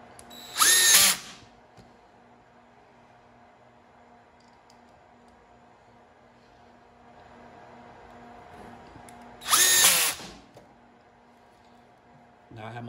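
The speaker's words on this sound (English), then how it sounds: "So what I do, I just put this in my cordless drill." Cordless drill driving screws into a lawn tractor tire to make studs, two short loud whirring bursts several seconds apart, separated by near silence.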